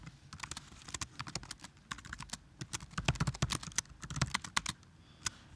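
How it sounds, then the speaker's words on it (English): Typing on a computer keyboard while entering an article title, clear close key clicks in uneven quick runs with brief pauses, no talking. "So I'm just going to type that in."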